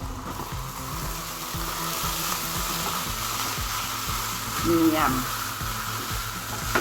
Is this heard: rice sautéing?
yes